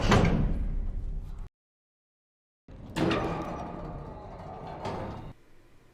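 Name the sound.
door closing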